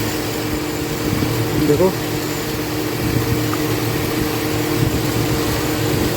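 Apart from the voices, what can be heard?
GMC engine running rough, nearly stalling, as wiring is wiggled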